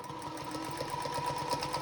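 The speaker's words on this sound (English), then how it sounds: "I am sewing on my little Singer Featherweight this morning" A small Singer Featherweight sewing machine stitches along a line on a charm square quilt block, running in a steady, even hum of rapid needle beats up close.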